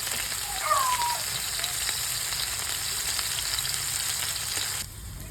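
Onions for a dal tempering crackle and hiss in hot oil, a continuous near sizzle with one brief squeak early on, and no one speaking.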